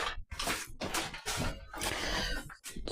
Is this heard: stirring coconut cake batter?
yes